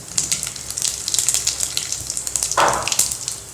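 Cumin seeds with cinnamon, cloves and star anise spluttering in hot oil in a pan, a steady crackling sizzle with a louder burst of popping near the end and no talk.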